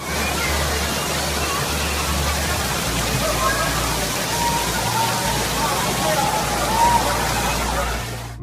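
Heavy rain from a violent thunderstorm pours down in a dense, continuous roar of water, with a faint murmur of voices underneath.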